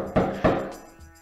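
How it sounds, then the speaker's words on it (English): Two firm knocks on a door, solid hollow thuds spaced about a quarter second apart, followed by a brief fainter tap and quiet room tone. "knock on the door"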